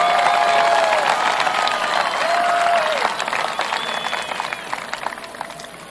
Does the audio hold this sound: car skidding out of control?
no